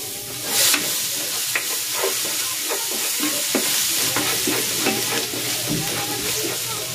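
Garlic sautéing in a pan for chicken pasta in red pesto sauce, a steady close sizzle broken by repeated stirring scrapes and a few sharper clinks.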